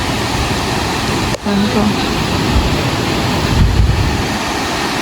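A stream runs under the Kakawayan bridge in mountain country, giving a steady, loud rushing wash. Wind buffets the microphone over it, and a voice speaks briefly.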